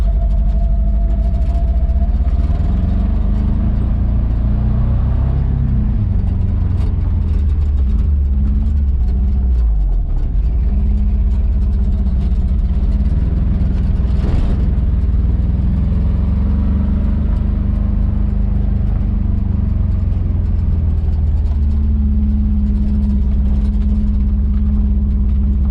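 A car fitted with homemade snow tires struggles along on snow, its engine droning loud and steady close by, with the pitch dipping and rising as it revs the whole way through.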